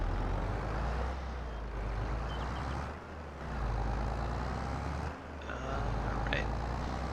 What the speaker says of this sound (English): It's a freaking sweet tractor.